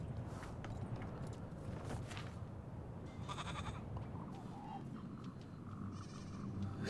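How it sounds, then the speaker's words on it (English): A goat bleats in the video game Little Goody Two Shoes, several short wavering calls over a dense, rustling ambient background with occasional hoof-like steps. "The goat."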